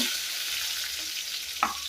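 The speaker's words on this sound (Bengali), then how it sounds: "তো পেঁয়াজটা আমি ভালো করে ভাজা ভাজা করে নিলাম।" Sliced onions fry in hot oil with whole spices like bay leaves, cardamom and cinnamon, giving a steady close sizzle with a brief spoon scrape near the end.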